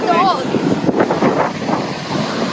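Steady wind buffets the microphone along a beach on the Italian coast while big surf rolls in, a continuous rushing wash that stays loud throughout, with a brief voice-like sound near the start.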